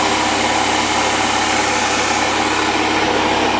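An air compressor runs continuously, pumping up to about 9 atmospheres with its relief valve turned to maximum: a loud, close, steady mechanical drone and hiss with no talking.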